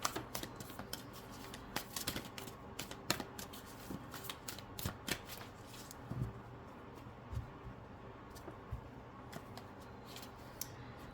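Tarot cards riffle and shuffle in quick, crisp bursts of flicks and slaps, close and fairly quiet, with short pauses between handfuls and no voices.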